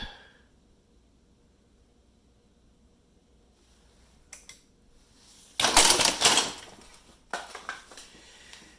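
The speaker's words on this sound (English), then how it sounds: "And we see the piston doing its job." Piston working inside a homemade Halloween automatic candy dispenser: after several seconds of near silence, a faint click, then a loud mechanical clatter and rattle lasting about a second, followed by a few smaller knocks and taps.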